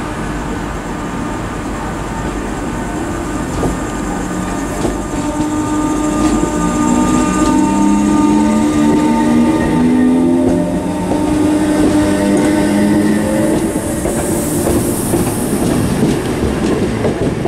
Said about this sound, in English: departing now is 319382 on the 1459 Northern service from Blackpool North to Manchester Airport.